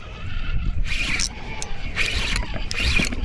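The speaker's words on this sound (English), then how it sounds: "Y'all hear that line going through the water?" Fishing line zips through water in short hissing bursts while fishing in the Gulf, several quick swishes spaced irregularly against a low background rumble.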